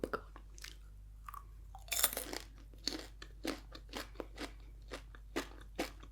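Crunchy toffee popcorn being bitten and chewed close up, a series of crisp crackling crunches spaced irregularly over a quiet background with no talking.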